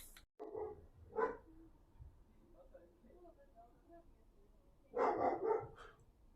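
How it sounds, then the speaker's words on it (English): A dog barks in a couple of short loud bursts, a pair early on and a stronger cluster near the end, with quieter sounds between them. "Dog's kicking off."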